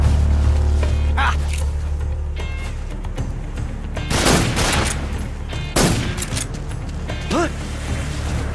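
Gunfire in the stealth action game Metal Gear Solid 3: Snake Eater, with several loud, bursty volleys over a steady game background and a short gasping vocal near the end.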